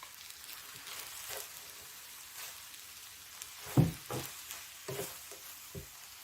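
Shrimp dropped into a pan of pad thai with cooked egg, giving a faint, steady sizzle broken by a few sharper clatters and scrapes of stirring near the end.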